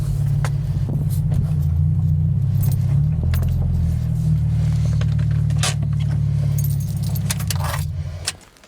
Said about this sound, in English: we're gonna pump the brakes a few times before we pull it into the garage